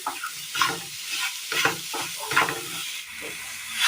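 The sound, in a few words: cooking and mashing banana in a pan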